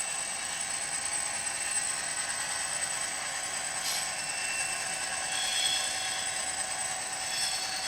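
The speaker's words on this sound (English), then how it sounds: "Can I get a flange squeal," A Bachmann class 57 model locomotive running on a radius 2 curve of model track, its wheel flanges giving a thin high squeal over a continuous light mechanical whir, steady and close.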